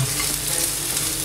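Chopped garlic and red onion sauté in a pan with a loud, continuous sizzle and the scrape of stirring, close up and with no talking.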